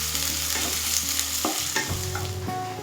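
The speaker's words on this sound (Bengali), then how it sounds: "পেঁয়াজ কুচি ব্রাউন করে ভেজে নেব" Two medium chopped onions fry in a pan, browning with a steady sizzle while a utensil stirs and scrapes them now and then, close and with no one talking.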